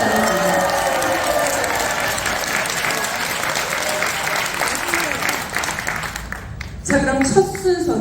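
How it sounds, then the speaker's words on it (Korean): Audience members at a product launch event give sustained welcoming applause, a dense, loud wash of clapping that fills the room for several seconds before thinning to scattered claps near the end. "서로에게 환영의 박수 보내주면서 시작하겠습니다"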